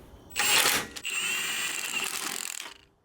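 A cordless drill with its torque setting turned down tightens bolts on a project car in two bursts, a short rough spin followed by a longer steady whine that winds down, close and fairly loud.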